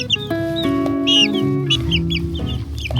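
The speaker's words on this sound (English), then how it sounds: "So we got these chicks 4 weeks ago at the Tractor Supply." Young chicks from a farm supply store cluck softly and repeatedly nearby, with high chirps and scattered short pecking taps over a steady low background.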